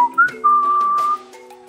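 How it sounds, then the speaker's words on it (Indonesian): Someone whistles a short, bright melody alone beside a lake, with clear sustained notes and a couple of quick rising chirps. "Sambil bersiul-siul"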